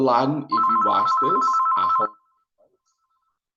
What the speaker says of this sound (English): that's my phone being silly